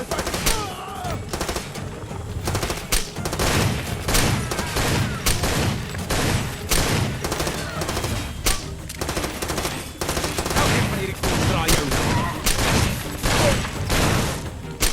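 Dense, rapid bursts of gunfire from the Far Cry 2 video game, loud and close, with repeated automatic volleys and heavy shots piling over one another almost nonstop.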